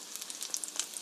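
Zucchini pancakes frying in oil in a pan over medium-low heat: a dense, steady sizzle with fine crackling pops, close and continuous with no talking.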